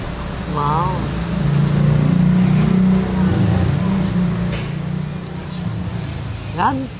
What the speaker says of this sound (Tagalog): Motor ng tubig po yun.